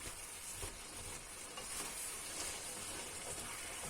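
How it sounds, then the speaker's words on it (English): Green curry meat and vegetables fry in a pan, giving a steady, even sizzle and hiss at moderate loudness, with no speech over it. "we try and fry that off a little bit too, just on the base of the pan if we can"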